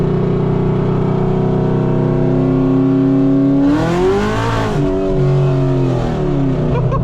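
An 850hp Chevrolet Camaro ZL1 accelerating hard, its engine droning loud and close as it climbs in pitch, then a quick shift dip and renewed climb through the gears, heard from inside the car.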